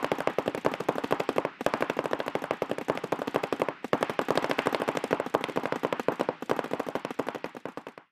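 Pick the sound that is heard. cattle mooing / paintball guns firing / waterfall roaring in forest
paintball guns firing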